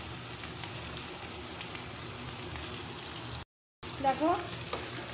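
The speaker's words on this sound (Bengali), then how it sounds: "ঝিঙে ডাল আর একটা লঙ্কা দিয়ে একটু নাড়াচাড়া করে নিচ্ছি" Ridge gourd, lentils and a chili sizzle in a dry pan while being stirred, a close, steady crackle that cuts out briefly near the end, then resumes as a short word is spoken.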